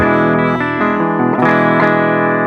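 Loud, saturated high-gain electric guitar runs through a Flamma FS06 preamp, with sustained distorted notes and a few quick picked changes and slides ringing on continuously.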